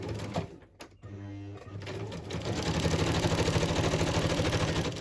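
A sewing machine straight-stitching fabric, starting with a few clicks and a brief whir, then settling into a fast, steady mechanical chatter that runs loud and close to the end.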